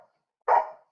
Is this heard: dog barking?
yes